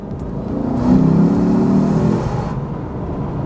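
A 2008 Lexus IS F V8 engine revs up and accelerates, swelling loudly for about two seconds before easing back to a steady hum.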